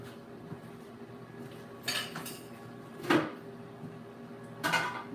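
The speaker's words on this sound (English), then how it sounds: "let me get a spoon" Metal spoon and cutlery clatter in a kitchen drawer while cooking steak, three sharp clinking bursts spaced a second or so apart, close and fairly loud over quiet room noise.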